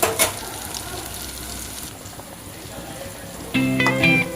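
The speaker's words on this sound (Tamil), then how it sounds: "இந்த உருண்டை இப்படி எண்ணெயில் போட்டு பொடியுது பாருங்களேன்" Meal maker kola balls dropped into hot oil give a brief sizzle and bubbling, close up, with a soft voice speaking over it and a clatter near the end.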